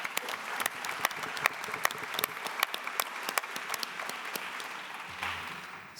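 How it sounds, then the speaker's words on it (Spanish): Audience applause at the opening ceremony of a legal conference in Argentina, a steady moderately loud clapping from a seated crowd lasting about six seconds and tapering at the end. "creo que también merece un aplauso porque es un hito importante."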